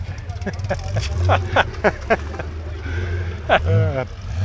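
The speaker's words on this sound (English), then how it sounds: "we have a very loud Viper in the background" A loud Dodge Viper engine doing grass burnouts rumbles steadily in the background, a low continuous drone under close conversation.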